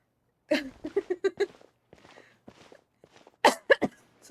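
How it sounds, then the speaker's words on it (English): In the Genshin Impact video game, a character coughs in a few short clustered bursts, then pauses and gives another pair of sharper coughs, close and fairly quiet, with no speech. "You keep coughing."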